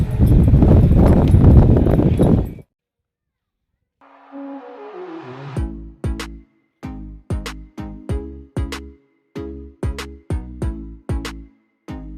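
Horse hooves clip-clop at a steady walking rhythm on a seashore near the Somnath temple, fairly close and distinct, following a brief burst of broadband noise and a pause.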